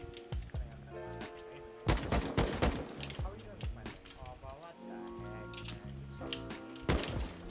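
Bursts of gunfire in the survival video game Rust, with sharp rapid volleys near the start, a dense cluster around the middle and another late burst, mixed with in-game tones and voices.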